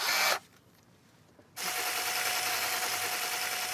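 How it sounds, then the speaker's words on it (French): A homemade smoothie blender driven by a power drill whirs loudly, cuts out for about a second, then spins back up to a steady, even drone that runs to the end. No one talks. "Et ce mixeur à smoothie qui tourne à la perceuse."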